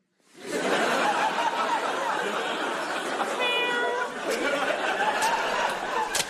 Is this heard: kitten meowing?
yes